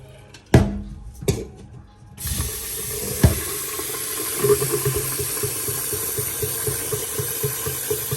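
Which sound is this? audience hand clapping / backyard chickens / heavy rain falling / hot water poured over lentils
hot water poured over lentils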